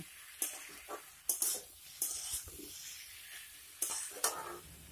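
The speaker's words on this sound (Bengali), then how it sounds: "ডাকনাটা সরিয়ে আবার একটু নেড়ে দেব এইভাবে" Mixed vegetarian vegetables cooking in an uncovered pan with the lid just lifted, a faint, close sizzle broken by a handful of short spatula scrapes and stirs.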